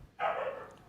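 One short dog bark sounds at moderate distance, a single sharp burst with no voices around it.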